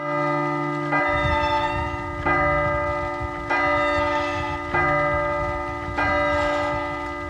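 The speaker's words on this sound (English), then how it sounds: "Have we not heard the chimes at midnight?" Deep church bell tolling in a spooky video game, five slow, evenly spaced strikes with long ringing decay over a low steady hum, loud and alone with no talk.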